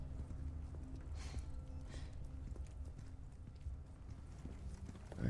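Footsteps in the PS5 video game Resident Evil 4 Remake, a muffled, steady run of thudding steps over a low rumbling backdrop, moderately quiet and without speech.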